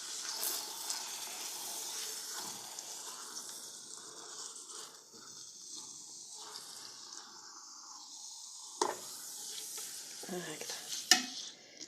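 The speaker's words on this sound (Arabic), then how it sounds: "نخلوها زيت تتقلى حتى واحد 5 دقائق ولا 10 دقائق" Frying in oil in a pot for an Algerian tajine: a continuous soft sizzle and hiss with occasional stirring scrapes and clinks, a faint word spoken over it.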